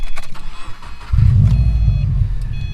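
A 2013 Subaru WRX hatchback with a five-speed manual and tuned exhaust: a faint start, then a loud, steady low engine rumble rises about a second in and holds near the microphone.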